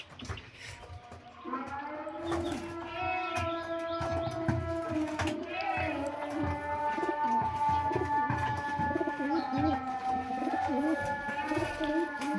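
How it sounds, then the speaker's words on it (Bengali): Pigeons coo continuously and close by while they are fed in the afternoon, with layered, overlapping throaty calls and a few soft chirps. "এখন আমরা সব কবুতরগুলোকে খেতে দিই।"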